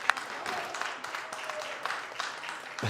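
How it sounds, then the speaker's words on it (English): Polite crowd applause at a supporters league championship football match, a steady moderate patter of clapping from a crowd, with commentary voices over it. "It's a nice polite applause"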